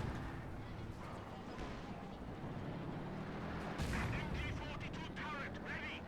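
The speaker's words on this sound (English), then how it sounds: "Mobile smoke barrage," A mobile smoke barrage fires during a Company of Heroes battle, a dense, continuous rumble of booming volleys with a heavier surge near the end and a voice talking faintly underneath.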